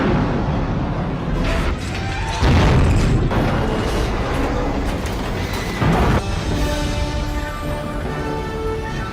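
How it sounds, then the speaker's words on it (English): A Star Wars capital ship collision explosion effect, from the hyperspace ramming scene, rolls out as deep rumbling booms and heavy roaring blasts with several surging peaks over a sustained low-end rumble. "we all know what happens when two capital ships collide at sublight speeds"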